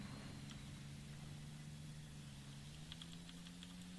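E-75 heavy tank engine from a tank video game, with its top engine removed, labouring up a moderately soft hill: a steady low droning rumble with a slight rise in pitch, continuous and fairly close, with faint clicks above.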